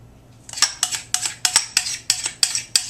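Spoon scraping the last of a raw chocolate banana coconut cream pie filling out of a bowl: about nine sharp metallic scrapes and clinks in a steady rhythm, close and clear, with no talk.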